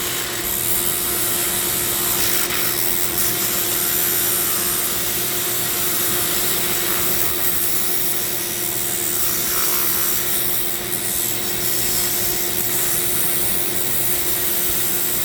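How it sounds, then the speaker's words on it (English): Shop vac and downdraft table draw dust in a loud, constant roar while a Dremel carves a zebra wood ring, with faint scraping and grinding under the suction. "My downdraft is like, ooh, yum, more. Suck it down there. Yeah, hell yeah, straight to my shop vac."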